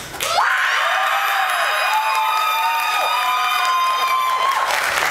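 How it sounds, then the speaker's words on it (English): A cruise ship audience cheers and shouts in a loud, sustained burst of crowd noise with whoops and high voices, filling the room for several seconds. "If this evening in the CAC you wish to once again play rock band, applaud and make noise now."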